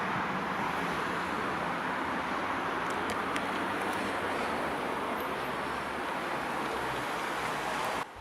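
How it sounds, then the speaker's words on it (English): Steady traffic noise from a nearby highway forms a constant broadband roar, with a few faint passing swooshes and no voices. "Apologies for any road noise that will intrude into my video as I'm filming next to a highway"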